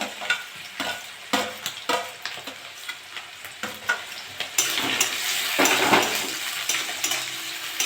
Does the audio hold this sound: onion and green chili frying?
yes